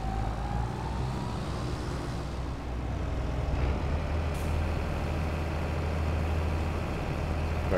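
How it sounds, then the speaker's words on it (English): Lamborghini tractor in Farming Simulator 22 idling, a steady low engine drone with a hissing burst partway through, continuous and fairly close. "I can leave the Lamborghini running"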